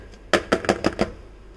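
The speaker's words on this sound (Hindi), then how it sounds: "अब हम इसे थोड़ा सा टैप कर देते हैं, जिससे कि अंदर जो जितनी भी एयर होती है वो निकल जाएगी इस टैप करने से।" A cake pan filled with eggless mango cake batter rapped against a surface to release air bubbles: five sharp, close knocks in quick succession, alone in a quiet room.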